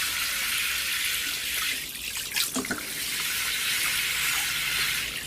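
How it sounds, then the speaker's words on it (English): Water mixed with tomato feed poured from close by into soil-filled pots in a greenhouse, a continuous splashing hiss with a brief gurgle partway through and no voices. "fill the pots up with water containing tomato feed"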